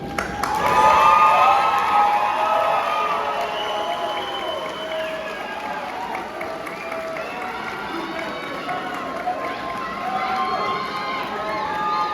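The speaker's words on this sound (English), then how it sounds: "join me in applauding these special people" Graduation audience at IntelliTec College in Colorado Springs applauding and cheering, a loud burst of clapping and whoops that settles into sustained applause with scattered shouts.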